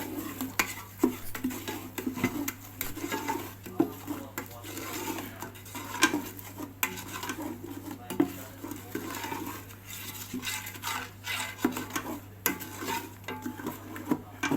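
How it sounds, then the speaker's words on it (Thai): Sugar being dry-roasted and stirred in a pan toward caramel while making ginger drink, with steady scraping and clinking of a utensil against the pan and a low background hum, fairly quiet throughout. "แล้วเราผัด เราคั่วไปเรื่อยๆนะครับ"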